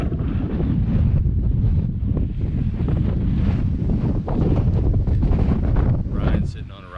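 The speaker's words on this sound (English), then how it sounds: "Wind. Love it." Strong wind roars across the microphone at a canyon overlook in Zion National Park, a loud, steady buffeting rush that eases off near the end.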